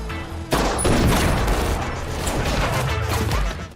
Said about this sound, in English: The sound of gunfire turns the building into a war zone